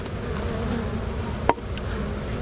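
Honey bees buzzing steadily at an open 10-frame Langstroth hive fitted with a top-mount feeder, a dense continuous hum with one short sharp click partway through.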